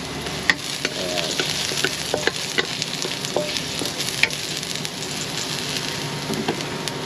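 Ginger sautéed in hot cooking oil in a pan sizzles steadily with a close, continuous crackling hiss and occasional sharp pops, with stirring and no speech.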